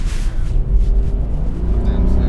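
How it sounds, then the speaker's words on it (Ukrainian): Lexus IS250 F Sport accelerating in normal drive mode, heard from inside the cabin as a steady low engine rumble under continuous in-car talk. "На нормальному режимі пробуємо розгін."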